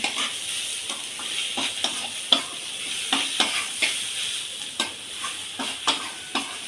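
Steady frying sizzle of big-fish mince in a pan after a little water is added, punctuated by repeated sharp stirring scrapes at an irregular pace, close up with no talking.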